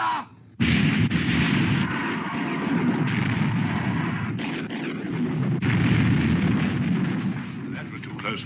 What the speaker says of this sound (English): All turrets ready to open fire, sir. Open fire! Fire!